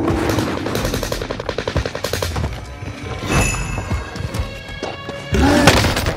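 Close automatic gunfire in the shooter game Call of Duty Warzone Pacific: rapid evenly spaced bursts of shots, then a pause, then further shooting and game noise, loud and near, with no talk over it.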